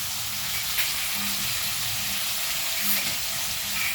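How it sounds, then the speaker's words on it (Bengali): Mixed vegetables frying steadily in a pan after a light salting, with a continuous soft sizzle and hiss at close range, plus occasional faint clinks and stirring noises. "নুন দেওয়ার পর এটা না আমরা কিছুক্ষণ ফ্রাই হতে ছেড়ে দেবো।"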